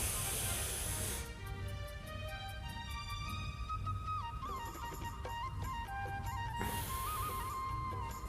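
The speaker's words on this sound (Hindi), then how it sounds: "लंबी गहरी सांस भरें" Deep, forceful breaths drawn in through the nose during bhastrika pranayama practice, with hissing rushes at the start and again near the end over soft background music.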